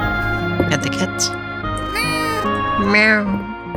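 A cartoon cat in a farming video game gives a short meow when petted, heard over steady background game music and a person talking.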